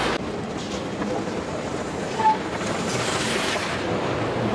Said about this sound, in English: I have to get on the train.